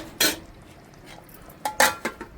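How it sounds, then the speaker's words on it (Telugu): A metal lid clanks onto a pot of Bangda fish curry, two sharp clinks near the start and a cluster of louder metallic knocks and rattles toward the end, close and clear with no talking. "మూత పెట్టి ఉడికించుకుందామండి."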